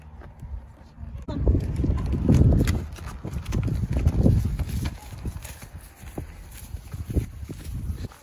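A horse carries a first-time rider, its hooves clip-clopping in a slow, uneven walking rhythm close by, mixed with shuffling and outdoor background noise.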